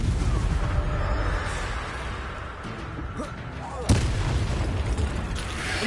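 Spells cast in Hogwarts Legacy burst out as booming, blast-like impacts over a steady rumble of combat, with one sharp crack standing out loud and close near the end.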